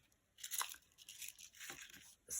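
Pink organza ribbon being trimmed, a few faint, close, crisp snipping and rustling bursts separated by short near-silent gaps.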